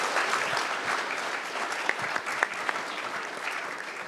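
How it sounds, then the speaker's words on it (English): An audience applauds steadily at a vintage computer festival roundtable, with dense, sustained clapping and a few sharper individual claps standing out near the end. "Everybody give them a round of applause."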